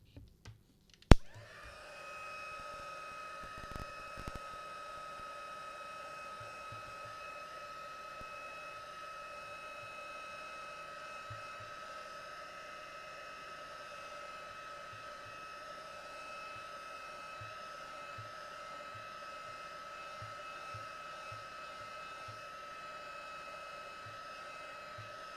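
A hair dryer blows steadily at a constant pitch while drying a watercolour Christmas wreath painting, a long even whir that starts after a click and continues with faint tapping sounds underneath.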